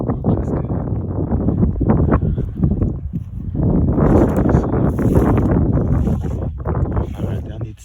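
Gusty wind buffets the microphone around an abandoned house, a rough, loud low roar that swells and eases in waves, with a person talking amid it.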